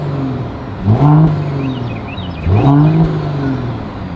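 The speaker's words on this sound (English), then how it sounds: "As always, here is that exhaust clip." A 2023 Mercedes-Benz E 450 Coupe engine is revved twice from idle, each blip rising sharply and falling back to a steady low exhaust burble, loud and close.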